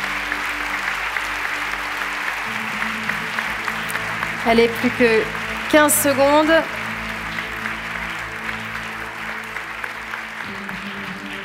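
An audience at an innovation forum grand prix keeps up sustained clapping for arriving award contenders, a broad wash of applause running throughout while a host speaks over it in French.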